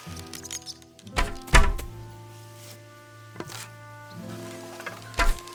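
Arrows striking an archery target in Kingdom Come: Deliverance II, a few sharp, close thunks spaced apart over a faint steady hum.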